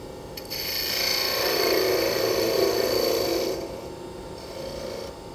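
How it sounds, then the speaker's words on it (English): Skew chisel shaving spinning timber on a woodturning lathe while shaping a Christmas bell, a close, continuous hissing cut lasting a few seconds before easing off. "I'm going to present the tip of the skew chisel onto the timber just near the end and then raise the handle"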